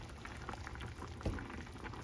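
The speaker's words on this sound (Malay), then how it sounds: "Mendidih sudah" A pot of red fish and eggplant asam pedas simmers at a soft boil, its bubbling faint and steady, with one louder pop partway through.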